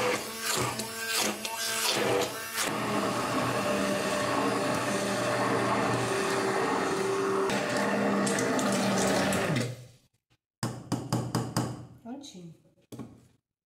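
Blender pureeing cooked kabocha squash, a loud steady whirring motor that runs continuously for about ten seconds, stops abruptly, then restarts in short choppy pulses near the end.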